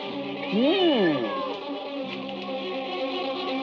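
A cat gives one clear, drawn-out meow with a rising and falling pitch, close and prominent in a scene from a Hindi action film, followed by a quieter tonal tail.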